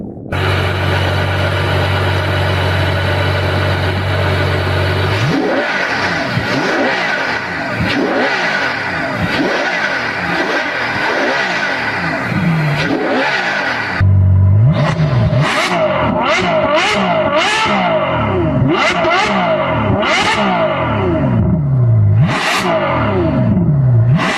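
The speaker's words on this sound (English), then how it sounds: "a 740 horsepower brand new V12 that has 509 foot-pounds of torque" A Ferrari F12 Berlinetta's 740-horsepower naturally aspirated V12 idles, then revs repeatedly in sharp rising and falling bursts, loud and close, with no talking.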